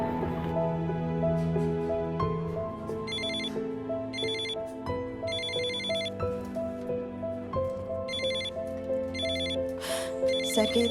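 A telephone rings in repeated electronic bursts over a sustained musical score, loud and close, with no talk during the ringing.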